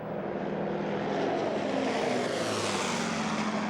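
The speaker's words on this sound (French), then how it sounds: "L'avion approche à basse altitude. Il frôle le mât." A propeller airplane makes a low pass over an icebreaker near the North Pole, its engine drone loud and steady with a rising and falling whine as it sweeps close overhead.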